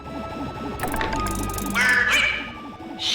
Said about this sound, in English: I'll make a bird call through the grapple cam speaker